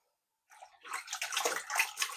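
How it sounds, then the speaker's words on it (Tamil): Food is rinsed by hand in a bowl of water, with soft close sloshing and splashing that starts after a brief silence and grows busier and louder toward the end. "2-3 தண்ணியில் கழுவி வடிச்செடுப்போம்."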